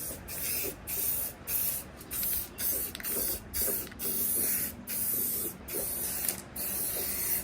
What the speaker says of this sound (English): We're gonna go ahead and hit this with another spray